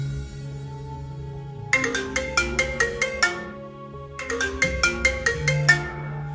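A bright marimba-like iPhone 6 ringtone plays a quick repeating melody twice, with a short gap between the phrases, clear and close.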